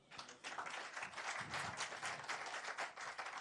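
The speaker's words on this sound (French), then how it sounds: "je vais vous demander d'applaudir comme il se doit" A studio audience applauds at a TV show taping, a dense steady wash of clapping from many hands that holds at an even level for several seconds.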